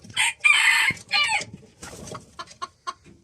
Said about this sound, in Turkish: Horoz büyük ihtimal tavuğu yumurtlaması için buraya giriyor ve çağırıyor